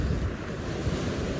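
Large ocean waves, about 6 to 7 feet, breaking in the bay at Nuevo Vallarta after Hurricane Roslyn in 2022: a continuous loud roar of surf with heavy wind noise on the microphone.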